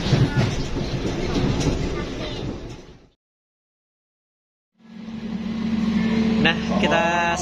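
Lodaya night passenger train on an Indonesian line, running at about 70 km/h: steady rolling rumble and clickety-clack of the carriages, briefly cut out, then resuming with a faint voice over it.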